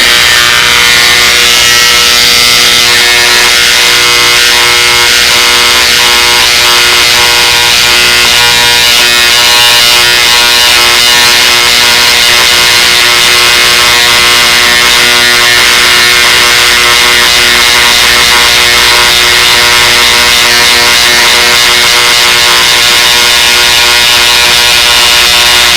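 An electric engraving tool etches the hub of a boat propeller, giving off a loud, steady, unbroken buzz that runs close up throughout.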